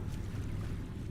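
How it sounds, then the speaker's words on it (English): Steady low water ambience in the Nightmare House 2 video game, a continuous rumbling wash with a faint airy hiss on top, even and unbroken throughout. "The water."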